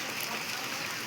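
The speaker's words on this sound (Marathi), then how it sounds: "बा छान आहे पाऊस" Steady monsoon rain falls in a village, a soft, even hiss of drops on surfaces that stays constant and fairly faint throughout.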